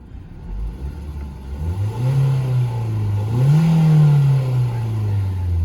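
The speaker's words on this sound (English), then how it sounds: "See if you want to hear what the engine sounds like revving up." A 2012 Ford Focus four-cylinder engine revs up twice from idle, rising and falling in pitch. The sound is close and steady, with no talking.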